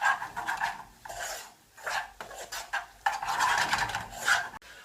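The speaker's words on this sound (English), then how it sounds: "We'll get them all mixed in, and we'll get all of those onions and apples all coated in that curry powder" Onions and apples are stirred in a pan to coat them in curry powder, giving repeated scraping and rubbing strokes in uneven bursts, close and fairly loud, with no talking.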